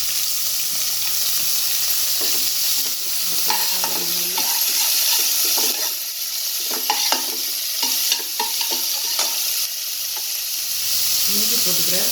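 Onions sizzle and crackle as they fry in hot oil in a pan for vada curry, with a continuous bright hiss and occasional stirring scrapes over roughly twelve seconds.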